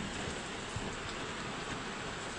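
Heavy rain pouring outside a car, heard from inside as a continuous dense hiss and drumming on the body, even and unbroken with no talking.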